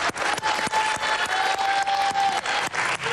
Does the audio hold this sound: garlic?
no